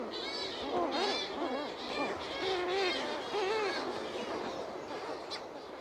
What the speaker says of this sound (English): The dusk hour brings millions of mutton birds or sooty shearwaters back from the sea to their burrows on the land.